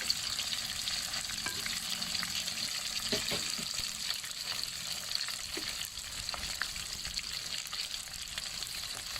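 Shrimp frying in hot oil in a pan over a fairly high gas flame, a dense, steady crackling sizzle with occasional sharper pops and faint stirring, heard up close without any voices.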